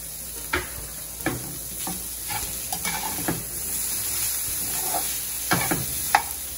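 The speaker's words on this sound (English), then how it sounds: "then you're gonna let the saltfish cook until it's about a nice brownish looking color" Boneless saltfish with cayenne pepper cooks in a pan, a steady low sizzle broken by several sharp scrapes and clicks of stirring spaced irregularly, close and alone without talk.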